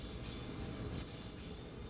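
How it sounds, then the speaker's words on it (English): A Siemens ACS-64 Amtrak City Sprinter electric locomotive in the Train Sim World 2 game, heard as a steady, dense rolling rumble of wheels on rail with a continuous broadband hiss and no voices. "This locomotive is an ACS-64 designed by Siemens Mobility."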